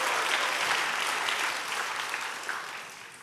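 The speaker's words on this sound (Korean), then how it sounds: "이럴 때 박수를 한번 치시죠" Steady crowd applause from an audience at a church youth service, dense and sustained clapping that fills the room and tapers slightly toward the end, with no talking over it.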